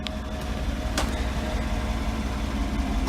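Idling 5.3 V8 engine of a GMC Denali running after a remote start, a steady low rumble held close and even, with a couple of faint clicks.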